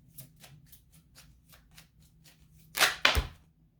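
Tarot cards are shuffled for a reading, a run of soft rhythmic riffles followed by two louder, sharper bursts as the deck is bridged or tapped, close and quiet with no talk.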